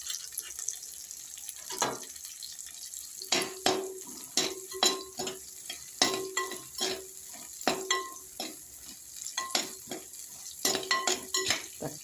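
Tomatoes stirred in a frying pan over onions already softened, with a low sizzle beneath rhythmic, fairly close scraping strokes that come in bursts, no voices.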